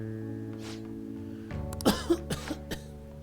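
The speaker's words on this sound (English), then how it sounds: "I can't stop coughing." A tired character in the video game Persona 5 Royal gives a short fit of coughing, four or five dry, clipped coughs in quick succession over soft background music.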